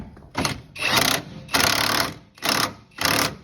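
A Hercules impact gun from Harbor Freight, fitted with a 1 5/16 socket on a Dodge Cummins steering gear job, fires five close, loud hammering bursts of varying length with short pauses between them.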